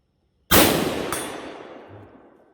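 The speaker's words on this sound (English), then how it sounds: "I'm gonna go ahead and take this shroud off the SME and shoot it just as an open break" A single loud rifle gunshot from a Ruger American fired through an SME muzzle brake with its shroud removed, a sharp crack followed by a long ringing outdoor decay.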